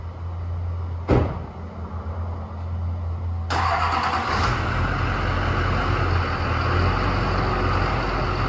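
A 2003 GMC Sierra 2500HD with a stock LB7 Duramax diesel and stock exhaust, after a solid axle swap, runs at idle. There is a sharp knock near the start, then a louder, broader engine sound partway through.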